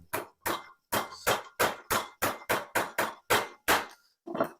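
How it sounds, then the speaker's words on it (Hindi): A big hammer strikes a bearing onto a ceiling fan axle, about a dozen sharp metallic blows in a steady rhythm, loud and close, with a short pause before the last hit. "बड़े हथौड़े के साथ आपने इसके ऊपर चोट मारनी"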